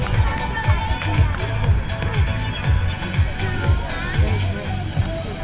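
Spectators at the Moms On The Run 5K finish line in Dover, New Hampshire, keep up a lively crowd noise of cheering and babble, with rhythmic footfalls of runners passing and an announcer's voice over it.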